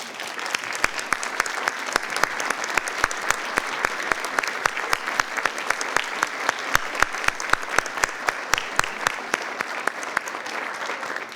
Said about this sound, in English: Please rise in the back so we can give you a round of applause.